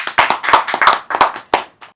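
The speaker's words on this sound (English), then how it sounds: "let's give a big clap to all the kids for being honest" A small group claps for children at the end of a podcast session: a short, close burst of loose, uneven handclaps lasts about two seconds and fades out with a few final claps.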